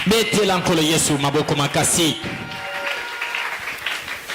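A church congregation applauding during a worship service, a dense burst of clapping that follows a stretch of loud talk and fades to a softer patter.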